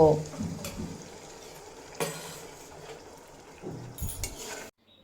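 A vegetarian drumstick (sojne data) curry with sesame, poppy seed and green chilli paste and a little water is stirred in a pan, with a few scraping and clattering strokes over a soft bubbling sizzle that stops abruptly at the end.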